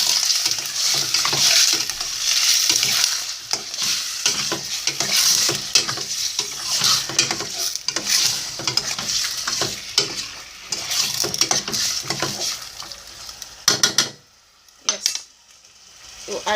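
Chicken liver fries steadily in a pan, a close, continuous sizzle broken by frequent scraping and clinking as the pieces are stirred and turned, with a short quiet gap near the end.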